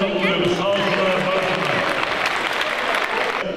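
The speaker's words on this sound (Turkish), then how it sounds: "Değerli sanatçımız Sadık Kargel ve değerli saz arkadaşlarına güçlü alkışlarımızla uğurluyoruz" An audience at a Yörük Türkmen festival in Eskişehir applauds to send off the folk musicians, dense continuous clapping from a large crowd that stays loud and close with voices mixed in.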